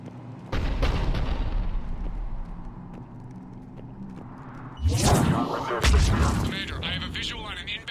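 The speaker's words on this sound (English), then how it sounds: "The cannon fire is clearing the way." Heavy cannon blasts from Cerberus artillery during a Mass Effect 3 battle, a loud booming rumble that swells midway with crackling impacts and debris, mixed with game voices and background combat noise.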